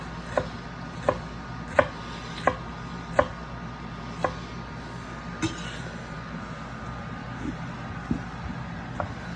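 A kitchen knife slices an onion very thin on a cutting board, giving about eight sharp, evenly spaced chops close up against a quiet background with no talking.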